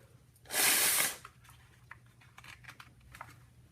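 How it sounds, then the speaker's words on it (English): One short, close breath is blown into a small hole in a paper origami jack-o'-lantern cube to puff it out: a single breathy rush, then faint paper crinkles and taps. "we're going to blow into that and poof out the balloon"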